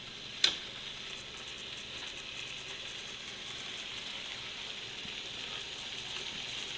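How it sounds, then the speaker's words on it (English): Chicken involtini sizzle steadily in a coated frying pan, making a continuous bright crackling hiss. One sharp clink near the start marks them being set down, with no voices. "I'm going to add them like this, and you can hear that they're already cooking."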